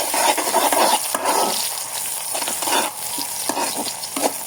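Onion and green chili fry in a hot pan with a steady sizzle while being stirred, the scraping and hiss loud and close, with no talking.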